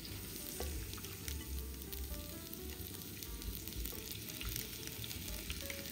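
Pork meat frying in hot lard for a Zacatecas-style pork stew, a dense steady sizzle and crackle throughout, close and fairly quiet with no talk.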